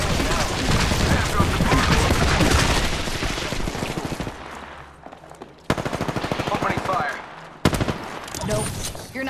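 Loud machine-gun bursts and shooting in a video game firefight, with sharp cuts where the firing stops and restarts, a grenade in the mix and a voice talking over the chaos.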